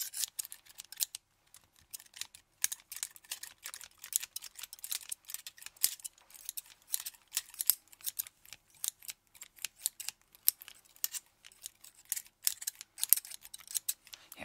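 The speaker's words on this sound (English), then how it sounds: "I suppose I could add a third pair of scissors and really get in there." Several pairs of scissors snip rapidly for an ASMR fake haircut, producing dense, crisp metallic clicks in quick irregular bursts, close up and with no voice.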